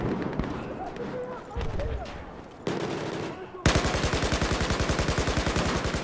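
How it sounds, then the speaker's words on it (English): Gunfire in the video game Battlefield 4, first scattered shots and explosions amid battle noise, then a long fast rapid-fire burst of evenly spaced loud shots close up, with a voice heard in places. "I was shooting like crazy"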